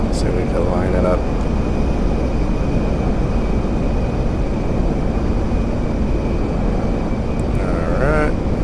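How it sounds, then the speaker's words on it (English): A B-1 bomber flying alongside a KC-135 refueling aircraft in GTA 5 gives a loud, steady jet engine roar that fills the whole stretch, with a voice talking over it. "Alright guys, so here's our B-1 bomber. We're flying with a KC-135 refueling aircraft."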